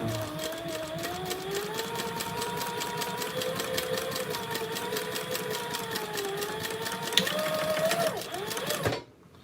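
A sewing machine backstitching through a fabric bag strap, running in a fast, steady rhythmic chatter close by for most of the clip, briefly slowing near the end before stopping abruptly.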